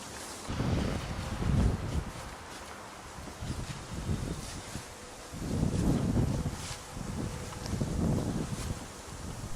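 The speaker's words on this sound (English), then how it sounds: "We've got a big gully here. Big gully. Let's get the wind." Night wind blows through a big gully on Cannock Chase, arriving in several rough, roaring gusts that swell and fade against the microphone, loud and close, with no voices.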